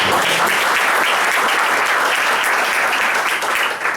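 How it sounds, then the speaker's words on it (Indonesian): A crowd breaks into loud, continuous applause, a thick, even roar of many people clapping for about four seconds with no speech. "Tepuk tangan buat gue."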